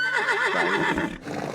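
A horse in the Medieval Dynasty video game whinnies close and clear with a wavering, quavering neigh that fades into a brief snort.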